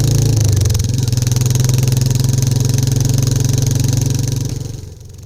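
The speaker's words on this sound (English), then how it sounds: "let you hear how the Hitchcock's free-flowing exhaust system sounds on the bike" A Royal Enfield Classic 350 motorcycle fitted with a Hitchcock's free-flowing exhaust thumps out a loud, steady, close-up engine beat with a rapid single-cylinder pulse, holding through most of the moment before easing slightly near the end, with no speech.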